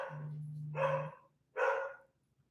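A dog barks indoors while people clean the house: a low growl followed by two sharp, separate barks with short pauses between them, close and fairly quiet.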